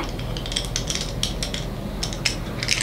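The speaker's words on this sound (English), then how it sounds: "I use the Peak Design shoulder mount, and what this will do is this will open up" A Peak Design shoulder mount is worked open, giving a close run of small plastic and metal clicks and ratcheting taps in irregular bursts over a quiet background.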